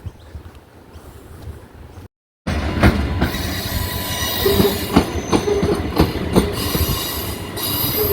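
A train rumbles through Roma Street station in Brisbane, wheels squealing and clacking loudly over the rails after a brief silent gap, the noise building steadily.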